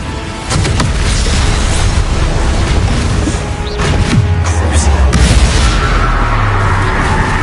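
In Hogwarts Legacy, the Incendio fire spell is cast with a loud, close, booming whoosh of flame that rumbles on continuously, with a few sharp bursts and crackles layered through it.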